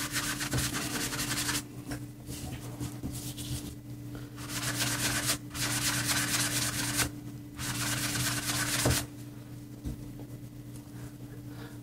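A piece of graphite is rubbed back and forth in long scraping strokes with short pauses between passes, over a steady electrical hum, close and fairly loud, with no voices.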